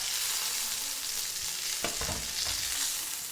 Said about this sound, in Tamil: சிக்கன் துண்டுகளை 2 பக்கமும் திருப்பி திருப்பி விட்டு நல்லா வேகிற வரைக்கும் மீடியம் ஃப்ளேம்லேயே வச்சு வேக வச்சு எடுத்துக்கலாம்